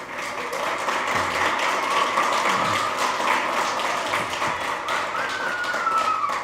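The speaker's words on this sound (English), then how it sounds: "So give everybody a big round of applause again." Church congregation applauding after a Sunday afternoon gathering, continuous clapping with a few scattered thumps and taps, a faint tone drifting through the middle and end.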